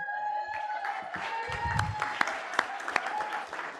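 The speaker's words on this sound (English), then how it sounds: "that applause was your applause earlier" An audience at a school district board meeting applauds, scattered distinct claps rising into a fuller burst midway, with a low voice or murmur briefly underneath and a faint steady tone in the room.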